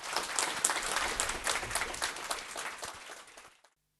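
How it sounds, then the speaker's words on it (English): An audience at a startup showcase in Japan breaks into loud, sustained applause, a dense wash of many hands clapping at close range that holds for over three seconds before cutting off abruptly. "So big round of applause."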